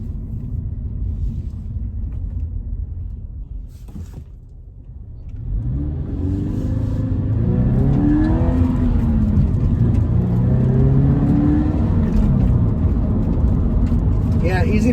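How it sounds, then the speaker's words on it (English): A 2020 Toyota 86GT sports car with a 6-speed manual and 205 horsepower revs up, a steady engine drone rising after a brief lull and holding loud through the end, with a voice talking over it. "this one definitely has some noise associated with a sportier vehicle"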